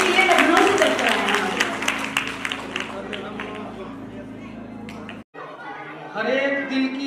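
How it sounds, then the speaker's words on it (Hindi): Crowd clapping at a school event held for a political candidate, a burst of applause mixed with chatter and voices that fades out midway, followed by a short gap and a speaker resuming. "एक बार जोरदार तालियां"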